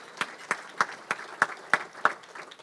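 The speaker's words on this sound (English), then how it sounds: "yes, clap for that" A few people in an audience clap sparsely, about seven distinct claps spaced evenly like slow applause, moderately near against a quiet room.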